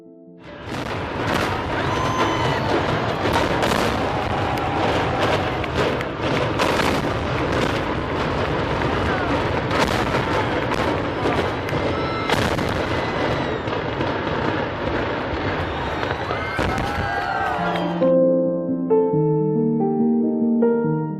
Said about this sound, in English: The demolition process involved the use of controlled explosions to bring down the structure.